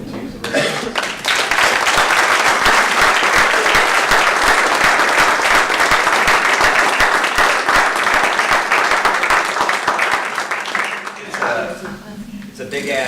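Loud, sustained audience applause at a December 2017 mayoral forum in Water Valley, Mississippi, a dense wash of clapping that lasts about ten seconds and then tapers off.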